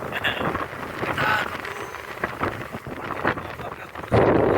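Strong wind buffets the microphone at sea during extreme weather while fishing from a bagan fishing platform at Tanjung Kait, with rough waves churning beneath, a continuous loud rushing roar with gusts and a heavy burst at the end.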